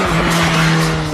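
BMW S1000R motorcycle accelerating hard with a quick shifter, its engine a loud, steady high-revving drone held close and continuous throughout, with no talk.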